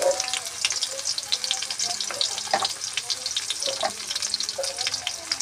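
Potatoes and chopped onion sizzle in hot oil in a kadai for a prawn curry, a steady hiss with scattered crackles and pops throughout.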